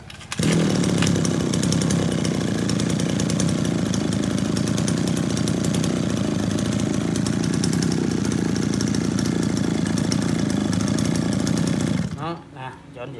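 A Sindaywa S24 petrol grass cutter engine runs loud and steady at high revs for about twelve seconds, a buzzing two-stroke drone, then cuts out abruptly near the end.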